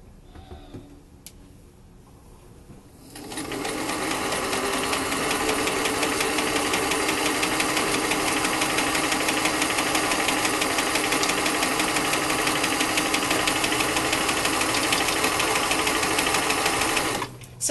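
A sewing machine starts up after a quiet moment and runs steadily, a fast continuous mechanical whir and rattle, close and fairly loud.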